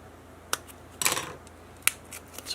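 Scissors snip through a paper frame during papercraft, a few sharp, close cuts spaced apart with a longer rustling cut between them, quiet room behind.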